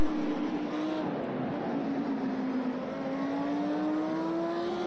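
A Lamborghini Super Trofeo race car at Imola, its engine growling steadily at high revs on board, pitch sliding down and climbing again through a gear change, loud and close with no talk.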